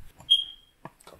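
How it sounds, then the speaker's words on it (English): A smoke alarm in a cat-themed hotel lets out one short, high electronic chirp against a quiet room, followed by faint scattered household noises. "apologies about the smoke alarm"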